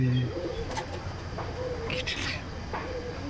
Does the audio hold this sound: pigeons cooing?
yes